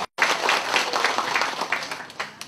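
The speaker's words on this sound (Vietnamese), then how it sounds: "Đề nghị chúng ta nổ một tràng pháo tay nhiệt liệt chào đón." Guests at the inauguration of a Nguyen Gia family ancestral hall burst into sustained applause after a short pause, a dense, steady patter of many hands clapping at moderate distance with little talk.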